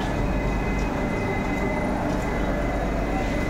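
A Vande Bharat train stands at platform 8 of Patna Junction, giving off a steady, loud broadband rail rumble with continuous mechanical noise throughout and no distinct clicks or horn.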